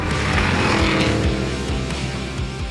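A 2023 Cadillac Escalade V and a Dodge Durango Hellcat drag race side by side, their engines roaring loud and steady under hard acceleration, with no talk over the noise.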